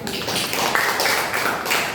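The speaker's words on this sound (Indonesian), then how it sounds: "tepuk tangan Bu Nadia" Classmates in a micro-teaching classroom clap for Bu Nadia, a brief burst of scattered, close hand claps with a dense, uneven rhythm and no talking over it.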